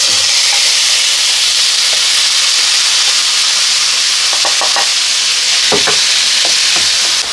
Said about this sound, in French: on fait chauffer de l'huile très chaude et on vient mettre notre viande dans cette huile